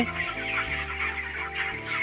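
Broiler chickens on a poultry farm about twenty days old, clucking and calling steadily and fairly close, with several birds overlapping and no talk.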